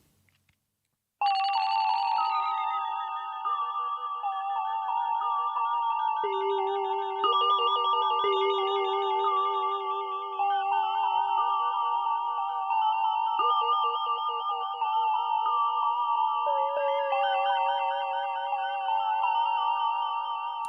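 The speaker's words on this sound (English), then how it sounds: "This is like instant creepy sort of hip hop beat," A bright synth hip hop beat played on a ROLI Seaboard Rise 2, with bell-like tones and steady layered notes, playing continuously and loudly from start to finish after a brief quiet opening.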